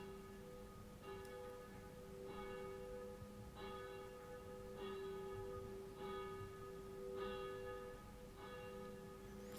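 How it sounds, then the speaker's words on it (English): A church bell tolls in a steady, repeated rhythm, each strike ringing out clearly and fading over a constant low background hum. "So now the church bell rings."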